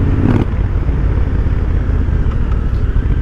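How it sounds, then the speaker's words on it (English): Triumph Thunderbird 1700 parallel-twin motorcycle engine rumbling steadily and loud up close, a continuous low throb with no speech over it. "I really enjoy these parallel twin engines."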